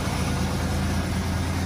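A 1987 Buick Grand National engine idles after a cold start, producing a steady, smooth low rumble with an even, continuous pulse, close and moderately loud with no other sounds.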